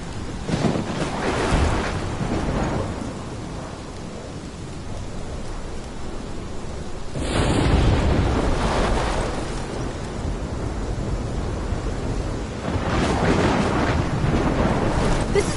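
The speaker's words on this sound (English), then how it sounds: "My storm! I caused this! I caused all of this!" Storm in the Life is Strange video game, with steady roaring rain and crashing waves under deep rumbling thunder swells, loud and continuous with no one talking.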